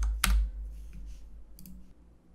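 Two sharp computer mouse clicks, one loud near the start and a softer one later, set against a quiet room hum.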